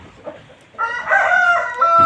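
A single rooster crows close by in a farmyard, one long rising crow that swells and holds for over a second after a few faint rustles, with no one talking.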